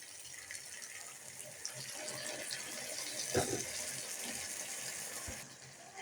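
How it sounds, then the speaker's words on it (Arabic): Half a cup of water pours into a pot of kebab meat with pepper and garlic, a soft, faint running splash that holds for several seconds, with a brief louder splash midway. "هحط نص كوبايه ميه"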